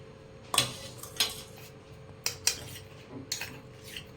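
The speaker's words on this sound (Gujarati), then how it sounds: "હવે અંદર બાફેલા બટાકા કટ કરેલા નાખીશું" A spoon clinks and scrapes against a dish as cut boiled potatoes go into prepared sago for farali bhel: a handful of sharp, close metallic taps spaced about a second apart, with no talking.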